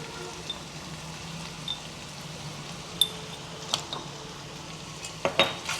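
Chicken is being mixed with salt, chili and coriander powder for gongura chicken fry, with soft sizzling under a handful of faint, scattered spoon scrapes and clinks against the pan.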